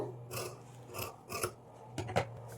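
Scissors snip through a gold cloth cross piece for a cut-work sleeve, several separate crisp rasping cuts spaced through a quiet room, close by and moderately loud, with a steady low hum underneath.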